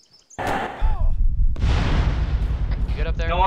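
Rocket launcher fired in the military game ARMA 3: a heavy, rumbling blast rises about a second in and roars on for the rest of the clip, with a second surge midway, while players talk over it.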